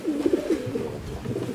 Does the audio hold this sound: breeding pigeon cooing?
yes